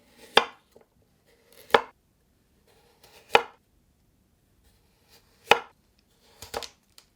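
Peeled carrots cut into 1.5 cm half-moon slices with a knife on a cutting board: five sharp, separate chops spaced a second or more apart, close and crisp against near silence, the last one a quick double knock.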